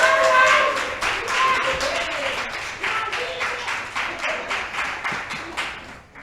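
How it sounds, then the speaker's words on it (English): At a creative writing showcase, a crowd bursts into sustained applause, with many hands clapping densely at close range in a steady wash that pulses slightly and begins to fade near the end. "Give yourself a round of applause."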